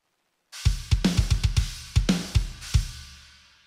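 Drum track with no transient designer or clipper applied, about a dozen punchy kick and snare hits in a loose rhythm, each with a softer attack and ringing decay, close and alone.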